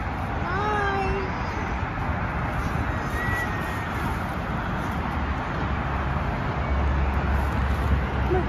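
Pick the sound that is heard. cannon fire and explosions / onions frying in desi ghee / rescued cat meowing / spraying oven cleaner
rescued cat meowing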